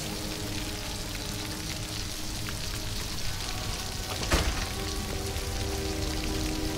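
Steady rain falls in a continuous, even hiss throughout, with a brief sharper patter partway through and no voices.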